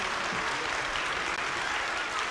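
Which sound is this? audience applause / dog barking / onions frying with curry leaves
audience applause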